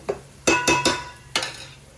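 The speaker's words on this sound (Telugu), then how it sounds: "ఇప్పుడైతే చేప ముక్కలు వేసేస్తాం" Pieces of fish dropped into a pan of curry in a home kitchen: several wet plopping thuds in quick succession, then one more after a pause, close and fairly loud with no talk.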